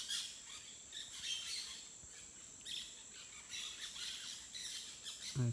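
High, scratchy parakeet calls chirp and squawk repeatedly at a distance, faint against a quiet outdoor background.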